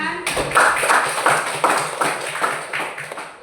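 A classroom of students claps for a classmate, a steady patter of many hands lasting a few seconds, close and fairly loud, with some light voices mixed in.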